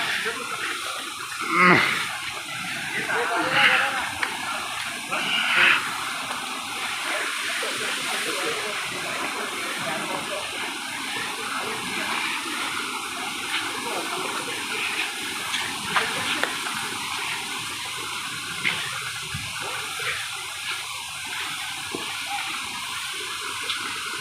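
A forest waterfall in the Penchalakona woods pours in a steady, loud, unbroken rush of falling and flowing water, with a voice now and then near the start.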